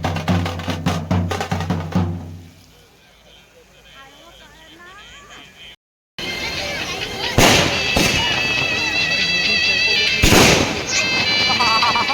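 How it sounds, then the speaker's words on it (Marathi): Firecrackers burst at a wedding in loud sharp volleys, with crackling pops near and far over a noisy outdoor crowd and music. "फटाके आणि फटाक्याचा आवाज"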